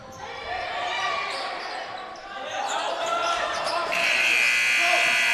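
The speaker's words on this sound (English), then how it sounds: "Sounds like something happened where the buzzer went off." A buzzer sounds during a boys high school volleyball game in a gym, a steady tone rising over crowd noise and ball thumps, with commentators talking throughout.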